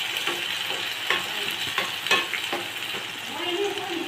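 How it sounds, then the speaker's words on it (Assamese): Ginger and garlic sizzle steadily in a hot pan for a soybean dish, with repeated scraping strokes of a spatula stirring the mixture, close and fairly loud throughout. "যেতিয়ালৈকে আদা নহৰুৰ গোন্ধটো নাযায় তেতিয়ালৈকে মই এইখিনি ভাজি থাকিম।"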